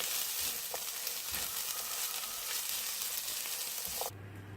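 Pepper frying in a pan gives a steady close sizzle and hiss with a few faint clinks, then drops away abruptly near the end.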